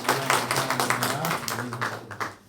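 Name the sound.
congregation clapping to welcome a new member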